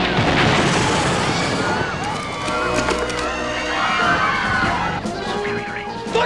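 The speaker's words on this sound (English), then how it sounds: "Müller, I'm going to fire the rocket now." Rocket fired in a low-budget movie scene, a loud continuous roaring crash and explosive rumble with crowd-like noise and shouting underneath, sustained throughout.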